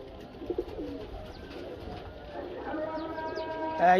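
Pigeons from breeding pairs coo softly and steadily at close range, with a few chirps and shuffling sounds; faint voices can be heard in the background.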